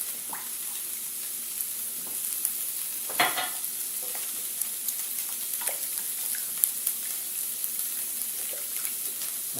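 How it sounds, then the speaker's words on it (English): Milk poured into a tater tot breakfast casserole mixture and stirred in a bowl, a soft continuous wet swishing and scraping with a few brief louder splashes and clinks, close and fairly quiet, no talking. "let's add our milk"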